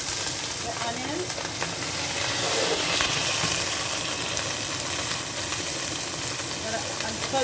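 Onions sizzle loudly and continuously as they fry in butter with garlic, a dense, even hiss that fills the whole stretch.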